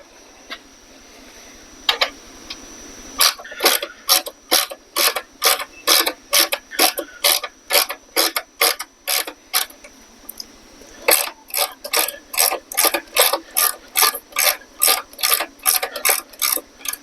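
A ratchet works loose long-untouched old bolts on a 1970 Honda Trail 70, giving sharp, close, rhythmic bursts of clicking in quick strokes. A short pause comes before the cranking resumes.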